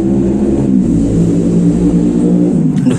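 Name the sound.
motorcycle engine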